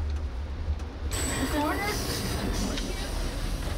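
A passenger train running north along the Hudson River on an American cross-country route gives a steady low rumble, with faint squeals and a little background babble.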